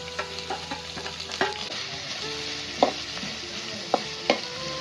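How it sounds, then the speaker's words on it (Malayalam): Chopped onion, ginger, green chili and garlic sizzle in hot oil with curry leaves for a mushroom roast, steady frying hiss broken by a few sharp stirring clinks of a spoon against the pan. "എണ്ണ ഒന്ന് ചൂടായിട്ട് അരിഞ്ഞ് വെച്ചൊക്കെ ഇട്ട് കൊടുക്കുക."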